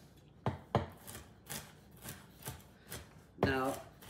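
A knife chops pecans on a cutting board for jalapeno pesto, sharp, close, evenly spaced strikes about twice a second, ending on a louder, heavier cut.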